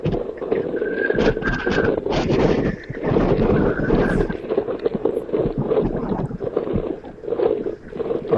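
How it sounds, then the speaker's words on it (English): Strong wind gusts buffeting the microphone during Hurricane Hanna's landfall on Padre Island, Texas, a loud continuous roaring rush with rising and falling surges and some faint background tones. "it's real windy out here"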